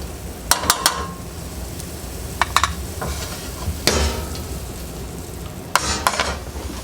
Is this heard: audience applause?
no